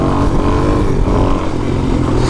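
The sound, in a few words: Suzuki DRZ400 motorcycle accelerating, shifting into third gear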